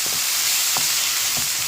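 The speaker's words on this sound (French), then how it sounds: "dans notre poêle de type wok food lovers, on va rajouter l'ensemble de nos ingrédients hachés" Chopped ingredients sizzle steadily in a little oil in a wok-style pan, with a few soft stirring scrapes over the constant loud frying hiss.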